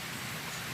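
Rain pours down over a backyard farm with coops for chickens and ducks ahead of a typhoon, a constant close wash of noise with no talk.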